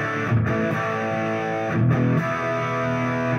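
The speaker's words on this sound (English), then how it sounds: "it's a super clean distortion" Overdriven electric guitar through a Baroni AFK150 amp, chords ringing with a smooth, clean-edged distortion, restruck twice, loud and close with no voices.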